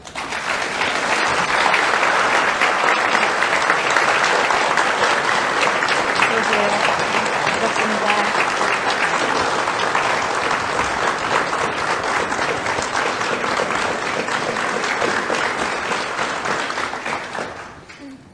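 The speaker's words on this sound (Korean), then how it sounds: "여러분 큰 박수 주십시오" Sustained applause from a large press-conference audience greeting South Korean President Roh Moo-hyun, a dense wash of clapping that holds steady for about seventeen seconds before tapering off at the end.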